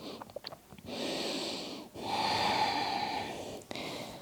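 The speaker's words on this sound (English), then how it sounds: "And start breathing through the nose." Slow breathing through the nose during a beginner evening yoga class, with two long, airy breaths, each lasting about a second or more, heard close and quiet, preceded by a few soft clicks.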